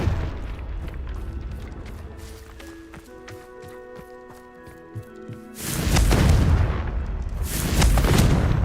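A Confringo fire spell explodes in the Hogwarts Legacy video game, giving two loud, roaring blasts in close succession that swamp the soft background game music.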